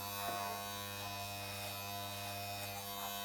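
Electric hair clippers buzz in a steady, even drone as they cut hair at a barber's, the motor tone constant and close with no talk over it.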